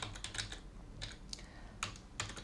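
Computer keyboard typing during a Python programming session for engineers, a few quick bursts of keystrokes with short pauses, close and fairly faint, no voices.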